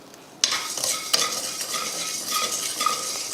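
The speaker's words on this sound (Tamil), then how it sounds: "அதையும் போட்டு வறுத்துடலாம்." Rock salt dry-roasted in a pan while being stirred, a continuous close, gritty rattling and scraping with sharp clinks from the utensil at the start and throughout.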